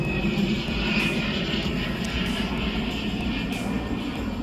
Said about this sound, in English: it's the PLA CH-7 reconnaissance drone